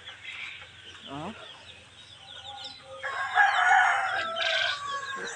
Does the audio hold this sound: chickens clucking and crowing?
yes